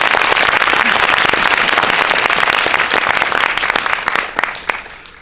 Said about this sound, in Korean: 큰 박수로 한번.